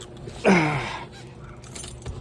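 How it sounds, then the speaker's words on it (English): A quick jangle of car keys for a Chevy Nova with an LS engine near the start, then quiet handling noises and faint rustling. "All right, guys, I got the keys."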